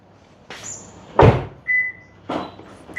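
A Honda Civic FL car door shuts with a solid thud, close and loud, among a few other bumps and short mechanical whirs.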